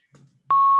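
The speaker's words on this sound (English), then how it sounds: "I don't know there's a beeping sound" A single steady electronic beep on a conference call starts abruptly after a faint murmur and holds as a continuous tone.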